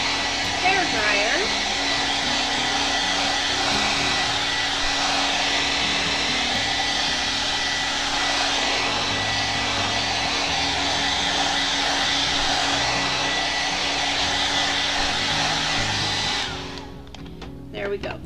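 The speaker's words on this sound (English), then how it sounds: "I'm just going to dry it real quick with my hair dryer" A hair dryer drying a thin coat of acrylic paint on canvas runs loud and steady at close range for about sixteen seconds, then switches off and spins down.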